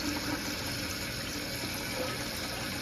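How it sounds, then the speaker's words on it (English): Liquid laundry additive poured from a bottle into a toilet tank, a steady close splashing and gurgling stream that runs unbroken under a faint background. "I pour about half of the bottle in"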